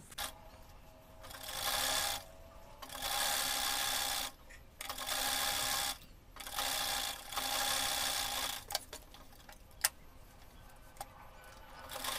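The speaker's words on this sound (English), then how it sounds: "I'm going to take this to the sewing machine and sew by half an inch" A sewing machine stitching across the fabric ends of a visor sun hat, running in several rapid whirring bursts of a couple of seconds each, separated by short pauses, with a few faint clicks near the end.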